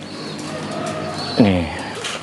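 A Tomprang high-flying racing pigeon, a breeding bird in a loft, gives one clear falling coo midway, close and distinct above a steady hiss of background noise.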